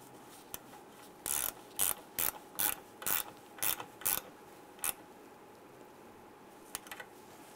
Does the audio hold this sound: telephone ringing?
no